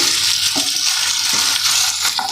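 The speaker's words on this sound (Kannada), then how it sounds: "ಓಕೆ, ಇನ್ನು ಫ್ರೈ ಆಗಲಿ. ಅಂಟಬಾರ್ದು ಅಂತ ಕೈ ಆಡ್ತಿರೋದಷ್ಟೇ." Vegetables for veg hakka noodles fry in a hot pan with a loud, steady sizzle and hiss, while a spatula scrapes and stirs through them in a few short strokes.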